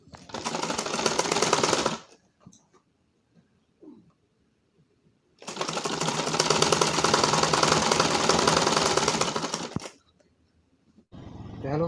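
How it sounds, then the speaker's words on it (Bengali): Sewing machine stitching piping onto fabric for a dinner-collar kameez, two long steady bursts of fast close rhythmic whirring separated by near silence, with a short third run starting at the end. "ভিউয়ার্স আমরা এই পাইপিংটাকে এভাবে ধরে জাস্ট এভাবে একটা সেলাই করে দেব বোরা দিয়ে।"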